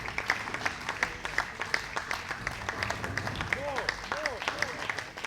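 A crowd applauds steadily at the close of a men's bowling final at the QubicaAMF Bowling World Cup Masters, a dense, continuous clapping with an announcer's voice rising over it near the end.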